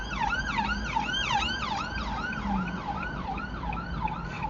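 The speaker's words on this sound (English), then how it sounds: "This is always lots of ambulances going up and down." An ambulance siren wails past on a road near Porthill and Basford, its rapid rising-and-falling tones repeating steadily over the low rumble of traffic, fairly close and clear with no talk.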